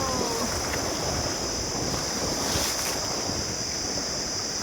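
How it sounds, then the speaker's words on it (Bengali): Waves and wind on a wide Sundarbans river, a steady broadband wash of water with gusty wind buffeting the microphone throughout, no clear individual breaks. "আরে ঢেউ দেখো, ঢেউ।"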